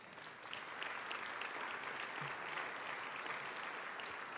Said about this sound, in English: Give Edgar a round of applause.